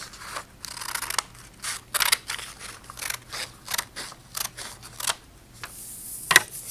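Scissors cutting folded paper to make a snowflake, a series of short crisp snips at an irregular rhythm, close and fairly quiet, with no talking.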